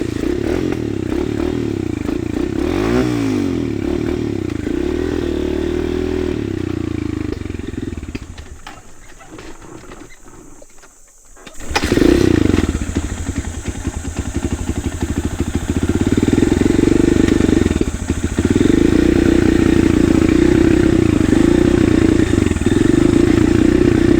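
A motorcycle on a woodland trail sputters, cuts out into near quiet and is kickstarted, then its engine roars back to life and keeps running with loud, sustained revving close by.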